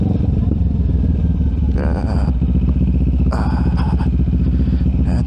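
A CFMoto 700 CL-X motorcycle riding in first gear over a rough road, its loud steady engine drone close and continuous, with bursts of clattering and scraping over the bumps.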